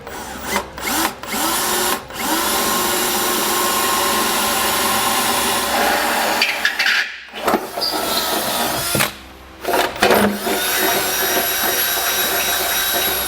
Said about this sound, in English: So now that we have our hole drilled